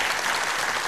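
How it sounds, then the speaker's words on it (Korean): A church congregation claps for the choir in a dense, steady round of applause that fills the room, brief and without speech. "성가대 한번 다시 큰 박수 한번 하시기 바랍니다"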